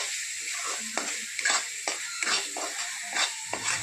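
Masala roasts in butter for a tilapia fish gravy, with a spoon scraping the pan in quick rhythmic strokes over a continuous close sizzle.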